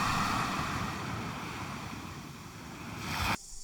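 Surf washes steadily onto a beach on the Abel Tasman coast, a dense, constant rush mixed with wind noise that drops off abruptly near the end.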